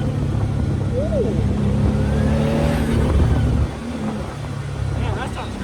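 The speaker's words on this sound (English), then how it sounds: "That's that spooling off the anti-lag" Loud Can-Am Maverick R engine roar with a rising whine and fluttering turbo spool from anti-lag, steady throughout, with a voice briefly audible over it.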